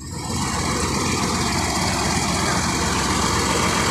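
A bus engine idles nearby with a steady, rumbling low chug, continuous throughout, with faint voices in the background.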